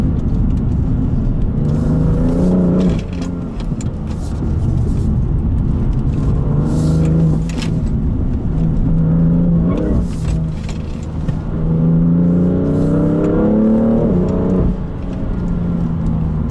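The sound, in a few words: BMW M3 Competition engine revving while driving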